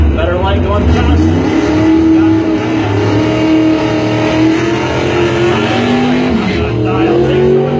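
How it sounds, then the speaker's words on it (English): A Chevy drag race car launches hard down the strip, its loud engine roaring steadily with shifting revs and possible tire noise throughout, an announcer's voice running over it. "Good hard launch there for the Chevy too."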